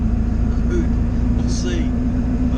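A 7.3 Powerstroke diesel truck drives along with a steady, loud low engine drone and road rumble inside the cab while someone talks over it.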